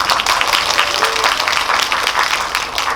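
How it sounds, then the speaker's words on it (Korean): An audience applauds an actor at a post-screening talk for a Korean film in a multiplex cinema hall, giving steady, dense clapping throughout at close range. "허성태 배우님 큰 박수 맞으십니다"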